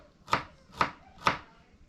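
Three evenly spaced knife chops through onion land on a cutting board, crisp and close, in a quiet outdoor cooking setting.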